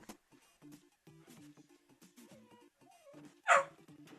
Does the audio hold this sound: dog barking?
yes